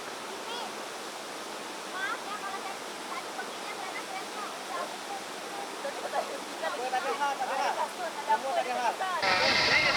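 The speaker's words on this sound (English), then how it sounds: "This is short waterfall, I think." Short waterfall along a rainforest trail, a steady broadband rush of falling water that grows louder and closer toward the end, with speech heard over it.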